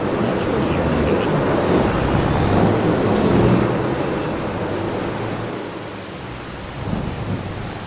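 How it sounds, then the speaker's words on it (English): Simulated rain in Farming Simulator 25, a steady heavy downpour hissing over the ground with low rumbles of thunder, loud and continuous, while someone talks faintly beneath it. "I do have to say the rain simulation here"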